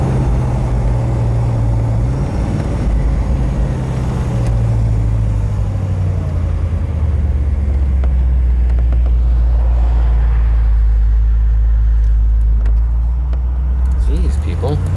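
A 1969 Ford Galaxie 500 convertible's 390 V8 engine idles with a deep, steady rumble, loud and close, holding an even tone throughout with no one talking.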